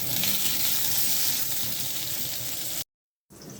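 Meat sizzles loudly and steadily as it fries in a pan, with a dense hiss that cuts off abruptly near the end before returning briefly.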